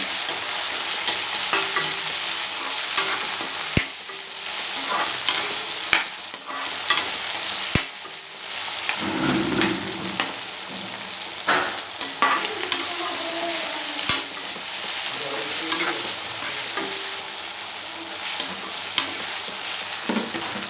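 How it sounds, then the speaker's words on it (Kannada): Tomatoes frying in about five spoons of oil in a pan, with a steady loud sizzle throughout and frequent stirring scrapes and clicks of a spoon. No one speaks. "ನೋಡಿ, ಟೊಮೊಟೊ ಎಲ್ಲ ಫ್ರೈ ಆಗ್ತಾಯಿದೆ"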